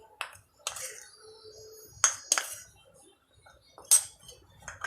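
A spoon mixing rose powder and Moroccan clay in a bowl for a homemade face scrub: several sharp, close metallic clinks and taps against the bowl, separated by quiet pauses.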